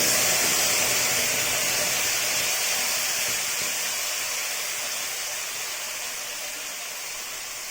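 Large tomato paste hitting a little hot oil with fried whole spices, giving a steady, bright hiss that fades slowly over several seconds with no talking.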